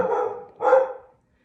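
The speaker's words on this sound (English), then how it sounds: "Sorry, Rue's barking" A dog barks twice nearby, two loud, rough barks in quick succession, then silence.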